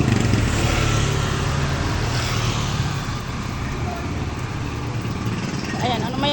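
Motorcycles and cars rumble steadily along a busy street, a loud continuous engine and traffic drone that eases slightly midway before swelling again, with nearby voices mixed in.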